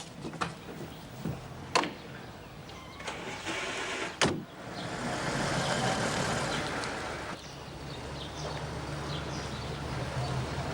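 A car drives along with a steady engine and road rumble, broken by several sharp clunks and knocks early on, then a louder, smoother stretch of driving noise.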